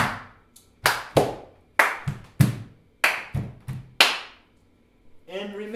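Body percussion combines foot stomps and hand claps in a live all-ages jam session. Sharp, loud, close claps and stomps fall in an uneven rhythmic phrase, followed by a voice at the end.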